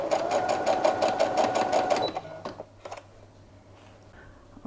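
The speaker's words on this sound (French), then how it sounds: "Vous allez coudre au plus près du bord." A sewing machine stitching fine lace close to the edge, running in a fast rhythmic burst of needle clatter for about two seconds, then stopping, followed by a few faint handling clicks.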